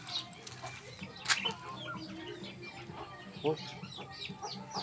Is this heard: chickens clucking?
yes